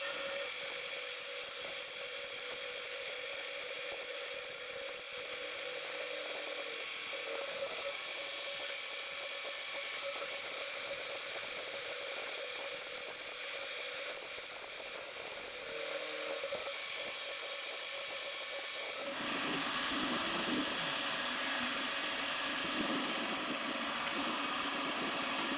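A milling cutter takes a 4.5 mm deep pass around the six sides of a locknut set on a rotary table. It is a steady, loud high whine and grind that shifts to a rougher, heavier cut near the end. No one speaks.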